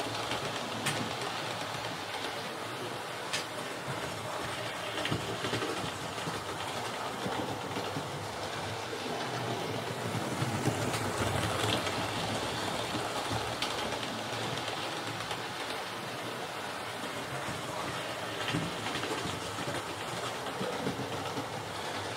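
Hornby GWR model steam locomotives, Saint, Star, Castle and King classes, run along track with a steady, fairly quiet rolling clatter and faint rhythmic clicking that continues without pause.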